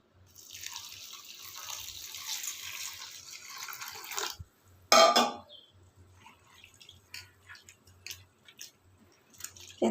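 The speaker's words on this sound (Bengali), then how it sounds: "এবার একটা জল দিয়ে দেবো।" Water pours into a bowl of flattened rice (chira) for several seconds as a steady hiss. A louder splash follows, then scattered drips and small wet handling sounds nearby.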